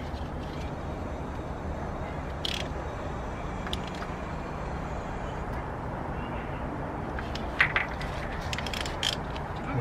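A ratchet wrench clicks in short bursts while tightening a part on a Honda B20 engine, with a few sharp metallic ticks over steady garage background noise.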